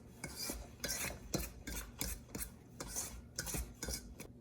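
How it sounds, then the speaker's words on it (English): Flours being mixed together in a bowl, likely with a utensil, give a run of rhythmic scraping and rubbing strokes, roughly two per second, close and fairly quiet, with no talk over them. "I'm just going to mix these flours together quickly"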